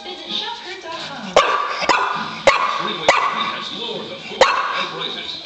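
English bulldogs bark and yip while fighting over a ball, several sharp, loud barks spaced irregularly among whimpers, with a person talking over them.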